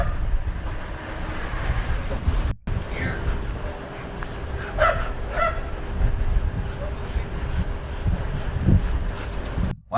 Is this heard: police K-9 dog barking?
yes